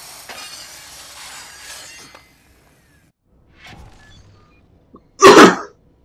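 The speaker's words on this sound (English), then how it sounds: "I guess it sounds more like I'm sneezing than I am coughing" One loud, abrupt cough that sounds like a sneeze bursts out near the end, after faint rustling, a quiet stretch and a few small noises.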